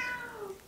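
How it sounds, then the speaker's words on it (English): A cat gives a single drawn-out meow that slides downward in pitch, faint and somewhat distant, with no talking over it. "That's my cat in the background"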